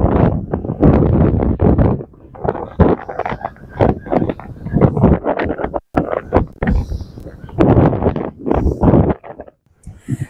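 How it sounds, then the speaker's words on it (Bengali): Strong sea wind buffets the microphone on the beach at Mandarmani, a loud continuous rumble and roar that gusts and surges under a person talking throughout. "সমুদ্রের ধার মানেই হচ্ছে প্রচন্ড হাওয়া"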